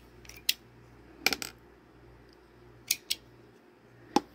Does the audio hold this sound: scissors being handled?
yes